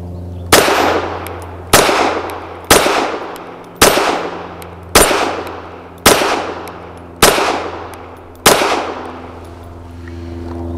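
Eight sharp pistol shots from a Walther WMP rimfire loaded with Federal 40 grain rounds, fired at a steel spinner target outdoors, evenly spaced about a second apart, each loud crack followed by a ringing decay, no talking.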